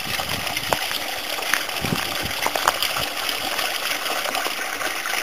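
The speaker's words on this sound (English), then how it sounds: "The water's overrunning." Water overruns and gushes down a path along the Sierra de Bernia circuit, a steady outdoor rush with scattered splashes and a few soft knocks, fairly close.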